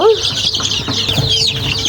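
Broiler chickens clucking and calling close by inside a poultry farm, a dense overlapping chorus of short bursts with one sharper squawk at the start.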